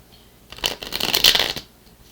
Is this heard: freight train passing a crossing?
no